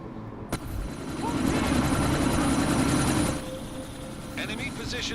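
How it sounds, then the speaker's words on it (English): A helicopter lifts off in the video game Deus Ex: Mankind Divided, its rotor roar swelling loud and steady for a few seconds before easing back, with voices and game sounds over the top. "That chopper's about to take off."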